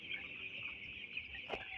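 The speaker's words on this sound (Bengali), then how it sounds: "আমাদের এই মুরগিগুলার বয়স হচ্ছে আজকে" Ten-day-old broiler chickens on a poultry farm give a faint, continuous chorus of soft peeping and clucking, with one slightly sharper call near the end.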